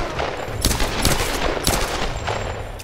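Gunfire in Tomb Raider: Definitive Edition cracks out in several sharp, loud shots spaced about half a second apart, over a busy game soundscape with no voices.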